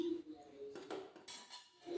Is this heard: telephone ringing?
no